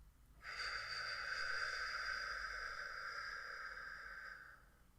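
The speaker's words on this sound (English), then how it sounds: "And then out through your mouth as if you're breathing out through a straw." A slow, steady exhale through pursed lips, like breathing out through a straw during a hypnobirthing labour breathing exercise; one long, close airy breath holding evenly for about four seconds with no talk.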